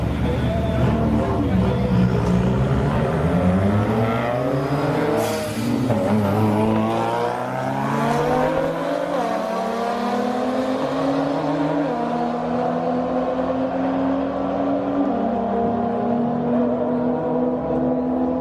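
Drag racing cars at Orlando Speedworld, including a base model Subaru WRX, roar loudly and continuously with rising engine harmonics as they accelerate down the strip.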